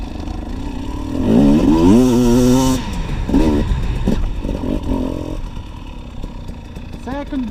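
KTM EXC250TPI two-stroke enduro motorcycle engine pulling in second gear, a close revving drone that climbs and wavers for a few seconds, then settles to a rougher, lower running note.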